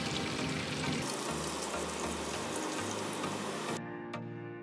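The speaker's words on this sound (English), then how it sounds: "If you cook the meat slowly over low heat, the meat will cook well to the inside." Pork belly grilling slowly in a pan over low heat for Korean grilled pork, giving a steady, broadband sizzle close up that fades slightly toward the end, with no voices.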